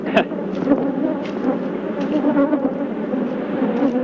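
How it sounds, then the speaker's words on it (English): A dense, steady buzzing of a swarm of attacking killer bees near a hive fills the air close by, a constant droning with occasional louder passes near the microphone. "Even as Dr. Gary left the hive area, the bees persisted in their attack."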